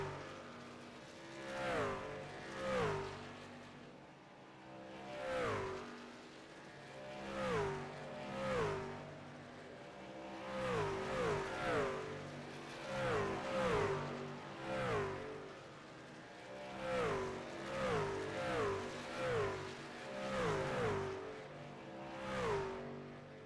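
Stock trucks racing at Iowa Speedway, a short-track oval, with engines surging and fading in repeated passes as the pack laps by, rising and falling in a steady rhythm at moderate distance, with no talk.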